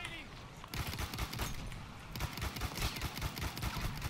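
Rapid gunfire bursts from a Battlefield 1 match crackle continuously, with dense repeated shots and volleys close and loud, and a voice speaking intermittently underneath.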